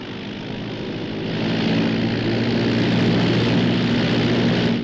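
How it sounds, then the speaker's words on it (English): Propeller aircraft engine droning steadily as a pickup plane comes in to land, a close, loud and continuous hum that swells slightly after the first second and holds. "That's a pickup plane."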